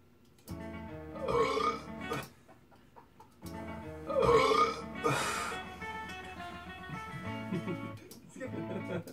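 A man lets out long, loud, deliberate burps, the two biggest drawn out for a second or more, with quieter voiced sounds between them, recorded close in a small room.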